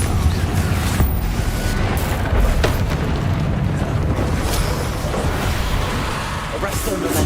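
Blasting fire spell explosions from Hogwarts Legacy, a continuous dense roar of booming bursts with whooshing magic effects, loud and sustained throughout with a few sharper impacts.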